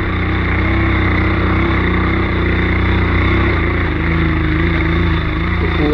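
A motorcycle engine running in a rainy forest on an off-road trip, a loud, continuous close-up drone with a slight shift in pitch partway through, and no talking.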